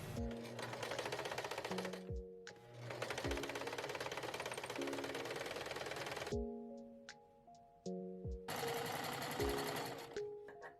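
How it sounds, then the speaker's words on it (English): A sewing machine stitches mesh onto a dance costume in several rapid mechanical runs, close and loud, with brief pauses between bursts and no talking. "then we're going to sew around them and then cut out the negative space to create the design"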